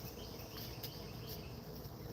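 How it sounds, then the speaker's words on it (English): Insects buzz and chirp steadily in a home vegetable and flower garden, a faint continuous droning hum with a few brief higher accents, no voices present. "there's still lots and lots and lots of bees um, buzzing around"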